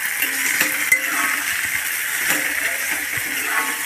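Chopped tomatoes sizzle steadily in a pan over fried red onions, with occasional clinks of a spoon stirring against the metal, part of a Maharashtrian-style garlic fenugreek dish.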